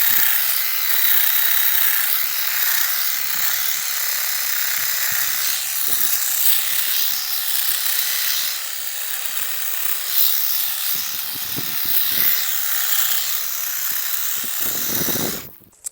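A powered shrub trimmer buzzes continuously while shaping garden shrubs, a loud high-pitched motor whine with small fluctuations in load as it cuts, ending abruptly after about fifteen seconds.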